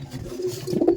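Kaldom pigeons coo in a spacious loft, a low throaty murmur rising in rolling pulses with faint shuffling around it, nearby and without talk.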